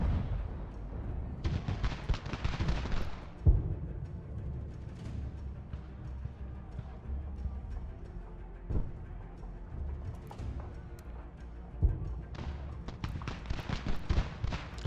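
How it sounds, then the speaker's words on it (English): Cannons fire across a battlefield in the strategy video game Ultimate General: American Revolution, giving dull booms and crackling volleys that rise and fall over a constant low rumble, with denser bursts at the start and the end. "Our cannons have opened up."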